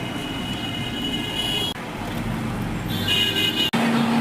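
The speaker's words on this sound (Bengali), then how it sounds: "ট্রেন ঢুকে গেল আমাদের" Continuous rumble and clatter of a train rolling into a station in Kolkata, with a short horn-like tone near the end.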